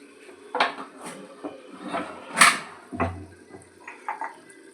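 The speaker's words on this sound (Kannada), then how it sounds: "ನಾನೀಗ ಇದಕ್ಕೆ ಪ್ಲೇಟ್ ಮುಚ್ಚಿ ಮತ್ತು ಏನಾದರೂ ಒಂದು ವೆಯ್ಟ್ ಇಡ್ತೀನಿ" A plate is set over a pressure cooker and a weight placed on top while cooking dhaba-style egg biryani, giving several close metallic clinks and clatters of utensils against each other.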